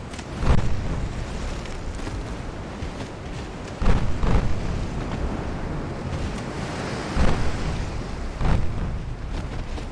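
A torpedo strikes the bow of a warship in Ultimate Admiral Dreadnoughts, heard as several dull, rumbling impacts over a steady wash of sea and wind noise, moderately distant.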